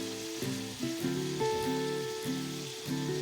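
Strips of sliced bell pepper with garlic sizzle and crackle in a hot frying pan while a spatula stirs them, with a steady fry and occasional scraping knocks over a few seconds, no voices.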